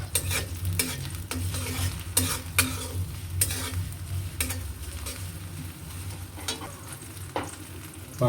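Chopped garlic frying in hot mustard oil for a beef nihari tempering, a steady close sizzle with repeated sharp scraping stirs of a spatula against the pan throughout.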